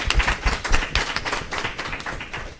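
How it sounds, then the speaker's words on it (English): Applause for panelists at a national security discussion, a modest group clapping with uneven, distinct hand claps, moderately loud and close, alone without talk. "join me in giving a round of applause for our panelists."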